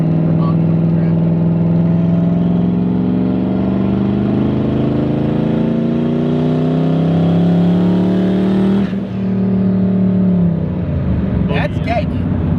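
A turbocharged import car engine pulls hard in a long climbing rev through the gears, loud and close from inside, dips briefly at a shift, then surges again as voices speak over it.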